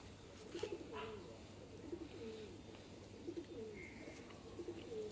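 Pigeons of a fancy breed coo softly nearby in a repeated, rhythmic pattern of low throaty calls, faint against quiet background hum and no talking.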